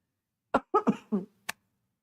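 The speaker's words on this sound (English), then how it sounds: "I'm sorry about the cough." A short run of dry coughs, four quick bursts close together, then a brief sharp sound after a pause, all close up in a quiet room.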